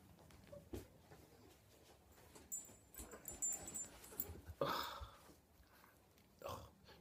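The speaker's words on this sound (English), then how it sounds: "This is my dog." A dog gives a few soft whimpers and snuffles close by, mixed with rustling and handling noises in a quiet indoor room.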